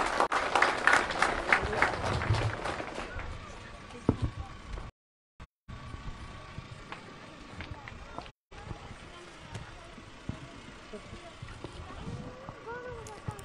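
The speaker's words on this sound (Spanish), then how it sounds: "Un fuerte aplauso para ella, por favor." An outdoor crowd at a municipal housing handover event in Tarija, Bolivia, bursts into dense applause for the mayor, loud at first and fading into scattered clapping amid murmuring voices.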